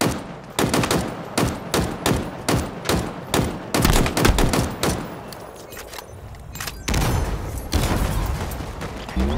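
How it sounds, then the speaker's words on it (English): A machine gun fires in Halo Infinite arena slayer play, loud and close, with evenly spaced rapid shots in repeated bursts and a brief lull before firing resumes. "Machine guns suit you, Spartan. I never tire of this weapon."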